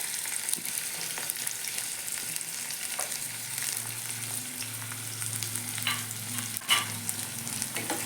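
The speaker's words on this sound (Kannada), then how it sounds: "ಇವಾಗ ಕಟ್ ಮಾಡಿಟ್ರಂಥ ಈರುಳ್ಳಿಯನ್ನು ಹಾಕ್ಕೊಳ್ತಾ ಇದ್ದೀನಿ." Chopped onions fry in a hot pan for a fenugreek leaf stir-fry, giving a steady close sizzle with occasional stirring scrapes and one sharper knock near the end, with no talking.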